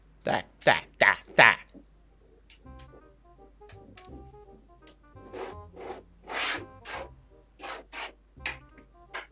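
Small magnets snapping together while a Thanos glove is built, with sharp clicks and clacks in irregular bursts and some rubbing and scraping in between. The sounds are close and fairly loud, with quiet stretches between them.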